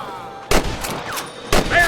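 Gunfire in Red Dead Redemption on PS3: two loud, sharp shots about a second apart, each trailing into a short echoing tail, close and dominant with no talk.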